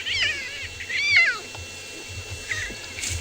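A lion cub gives several high, wavering whining cries, one long and rising, separated by short pauses over a low background rumble.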